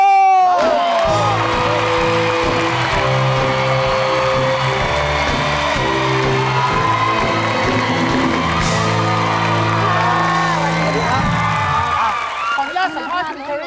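A Thai television studio audience claps and cheers to welcome guests, with whoops and shouts over loud, steady studio music before it fades out near the end.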